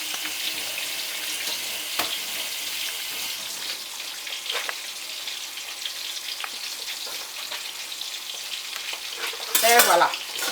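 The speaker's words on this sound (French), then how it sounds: "Je rince ça." Tap water running over something being rinsed in a kitchen sink, a steady splashing hiss throughout with a brief louder gush near the end.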